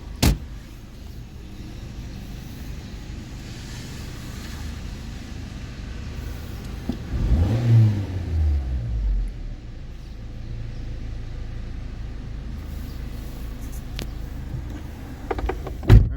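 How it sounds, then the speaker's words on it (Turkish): A car with an unstable idle runs with a continuous low rumble that swells and drops around the middle as the idle fluctuates, with sharp clicks at the start and end and no speech. "Arabamızın sıkıntısı rolanti sıkıntısı var arabamızda."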